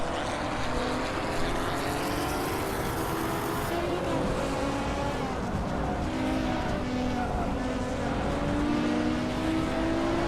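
A race car in a Hot Wheels video game roars steadily at speed, its engine tone shifting as it brakes and its tires squeal, with commentary voices talking over the noise.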